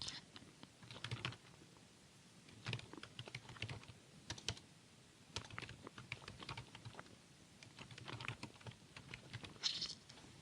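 Steady computer keyboard typing while entering accounting data into a bookkeeping program, key clicks arriving in bursts and short runs at a moderate, close level with brief pauses between.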